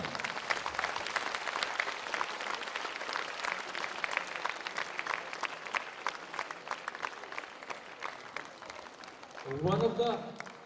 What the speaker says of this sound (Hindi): एक तालियां तो बनता है सर के लिए।